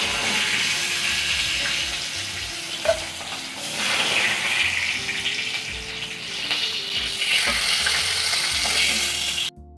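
Hilsa fish pieces fry lightly in a pan with a steady, close sizzle and hiss that runs the whole time, broken by a few sharp clinks and rises in intensity before cutting off abruptly at the end.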